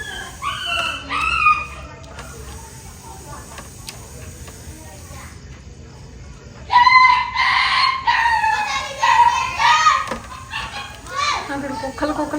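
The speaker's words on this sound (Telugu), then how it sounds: "అక్కడ కుక్కలు ఫైట్ చేస్తుంది." Dogs fighting nearby, with sharp barks and yelps in bursts early on and then a louder, denser stretch of snarling barks, while chickens and distant voices sound in the background.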